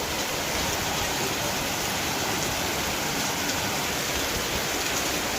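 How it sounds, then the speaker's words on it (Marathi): Heavy monsoon rain pouring in a village, with water rushing and flowing strongly, a dense, even hiss that continues without a break. "आला पाऊस बघा पाणी कसं वाहत आहे जोरदार"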